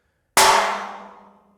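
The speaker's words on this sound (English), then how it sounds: "and then there's with nothing. It's just the sheet." One loud strike of a stick on a bare corrugated metal roofing sheet produces a crisp clang that decays smoothly over roughly a second, heard alone without any rattle or talk.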